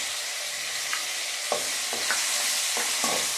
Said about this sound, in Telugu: టమోటాను బాగా వేయించుకోండి మెత్తగా